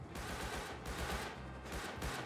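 Rapid bursts of gunfire in the game Rust crackle in quick succession, dense and continuous, like automatic weapons, with no talking.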